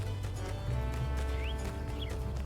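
Horses in the video game My Time at Sandrock, with steady clip-clop hooves and a faint whinny over a continuous low game ambience, with birds chirping lightly in the background.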